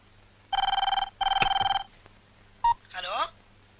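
A telephone keypad is dialed in a comedy scene from the film Andagadu: two long bursts of rapid dialing tones, then a short beep, followed by a brief voice.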